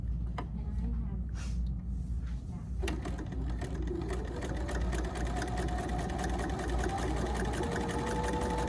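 A sewing machine stitches quilting fabric for jar grippers with a fast, steady mechanical whir and rattle that runs the whole time, while a voice talks over it.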